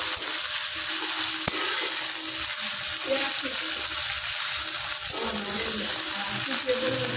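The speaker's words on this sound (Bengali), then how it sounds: "পেঁয়াজ আর টমেটোটা ভালো করে তেলের মধ্যে নেড়ে নিচ্ছে মামুনি।" Onion and tomato fry in oil with a steady, close sizzle, broken by occasional soft stirring scrapes and clinks throughout.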